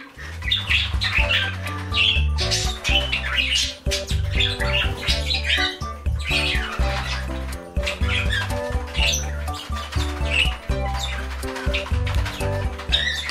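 Turquoisine parakeets meeting for the first time, one a baby and one an adult, with repeated close chirps and squawks over a steady backdrop of music-like tones.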